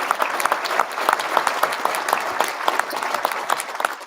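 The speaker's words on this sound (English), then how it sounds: "That's a round of applause for that" An audience applauds at an awards gala, with many hands clapping in a lively, uneven patter of distinct claps that holds steady for several seconds and carries no speech over it.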